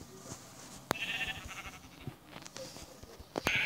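Sheep in a survival video game bleat in a few short, separate calls, mixed with scattered clicks and light game sounds.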